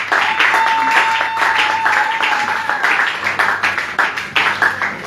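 Church congregation applauding and clapping, a dense continuous patter of many hands with rhythmic pulses, fairly loud and steady, with a faint sustained tone and some voices mixed in.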